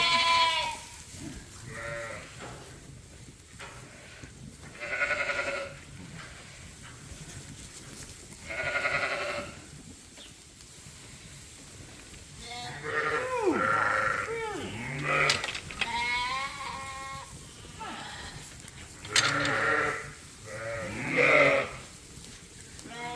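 Sheep bleat repeatedly in a farm pen, several loud, close calls overlapping at irregular intervals against a rustling background.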